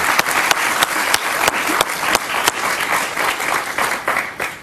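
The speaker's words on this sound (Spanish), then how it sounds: "Un aplauso para Antonio" A studio audience on a Venezuelan-themed political talk show applauds loudly for a guest named Antonio, with crisp, prominent individual claps punching through a dense, continuous round of clapping.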